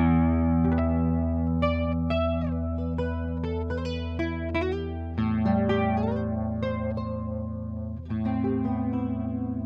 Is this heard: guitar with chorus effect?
yes